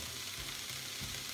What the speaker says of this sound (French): ici, je vais ajouter les lardons.